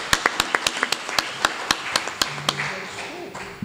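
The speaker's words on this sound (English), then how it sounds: "Oh, applause anyway." Audience applause at the IEEE EDUCON 2018 engineering education awards session: sparse, separate handclaps in a loose rhythm from a modest crowd in a hall, fading toward the end.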